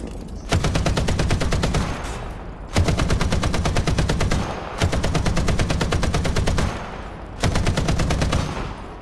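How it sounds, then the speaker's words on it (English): A .50 cal machine gun fires in the War Thunder video game, four long loud bursts of rapid, evenly spaced shots separated by short gaps. "let's see the 50 cal firing sound"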